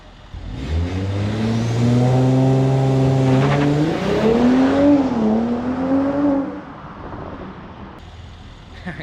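A Mercedes C43 AMG launches hard with traction aids switched off, its engine note rising through a long pull and one upshift, loud and close, then easing off before fading.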